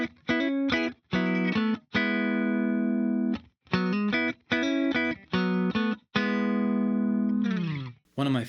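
Electric guitar riff built from a shifting interval moved around the neck: short choppy bursts alternating with longer ringing notes, played clean and upfront without any talking.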